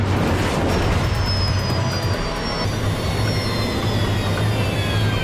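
Loud, steady roar of four jet engines with high whining tones drifting downward as the failing engines run down, continuous throughout with no voices.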